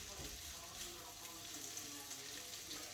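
Bacon bits fry in butter and get stirred around the pan, a soft continuous sizzle and faint crackle, close but quiet, with a voice speaking over it.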